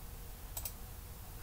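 A computer mouse double-clicks during CAD part design work: two faint, quick ticks sit close together, followed by another lone click against a quiet, hissy room background.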